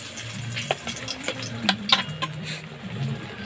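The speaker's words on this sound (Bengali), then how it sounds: "তেল গরম হয়ে গেছে, শুকনো লঙ্কা দিয়ে দিচ্ছি" Dried red chillies frying in hot oil in a wok, a steady close sizzle with scattered sharp crackles and a few spatula clinks against the metal.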